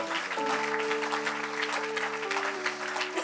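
A church congregation claps steadily and densely throughout, loud and close, while a sustained organ or keyboard chord plays beneath the applause.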